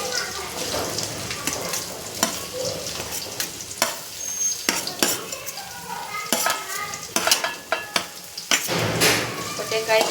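Potatoes added to a spiced oil tempering and stirred in a pan while making spicy Maggi rice, a close sizzle broken by repeated scraping and clanks of a spoon against the pan.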